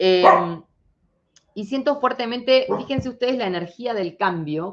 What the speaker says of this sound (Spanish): ese es mi perro